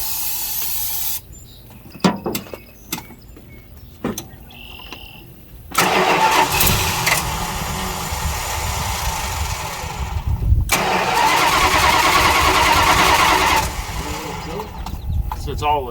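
A Plymouth Roadrunner engine, freshly given gasoline in the tank, cranks in short bursts and then catches and runs roughly with hissing, while people talk nearby between attempts.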